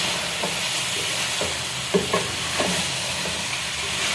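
Green chilies and coriander stirred into radish-pod chicken in a frying pan, a steady sizzle under scattered scraping strokes of the spoon, close and fairly loud, no talking.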